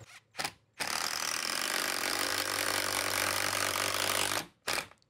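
An impact driver drives a 3.5-inch screw into a door hinge, hammering with a harsh rattling whir for several seconds, bracketed by brief short bursts before and after.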